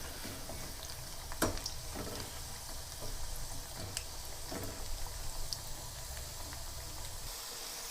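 Elephant foot yam kabab fries in a pan with a soft, steady sizzle and bubbling of hot oil, faint and continuous, with a few small pops and crackles scattered through.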